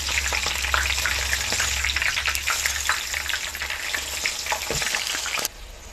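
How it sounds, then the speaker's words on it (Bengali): Green dabri, a chanachur ingredient, frying in hot oil inside a strainer, a bright continuous bubbling sizzle with crackles that drops quieter near the end. "পানিটা ছড়ে গেছে, এখন ভেজে নেব।"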